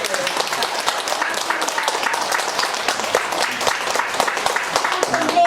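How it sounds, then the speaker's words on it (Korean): A church congregation at a Korean Sunday service breaks into warm applause, a full, even patter of many hands clapping close by throughout, with no voice heard over it. "박수 한번 쳐줄까요?"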